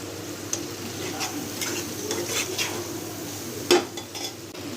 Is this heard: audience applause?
no